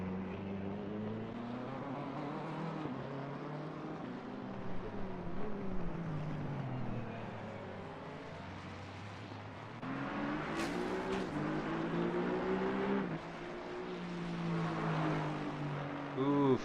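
Simulated BMW race car engine in a sim racing game, a steady droning whine with shifting pitch that rises and falls through gear changes, running continuously under commentary.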